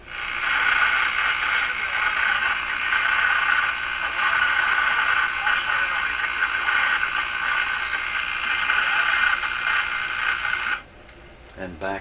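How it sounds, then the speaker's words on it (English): A tube radio plays a steady, band-limited broadcast with a bright, slightly tinny hiss-laden tone for about eleven seconds, then cuts off abruptly to near silence, followed by a couple of faint clicks. "we'll go back to the tube radio. You can hear what it sounds like."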